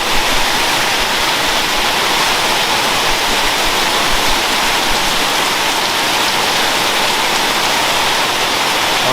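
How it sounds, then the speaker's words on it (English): Heavy rain pours down in a loud, constant hiss and patter, unbroken throughout with no voices, during a stormy spell with thunder. "there's definitely some rain and there's been lots of thunder"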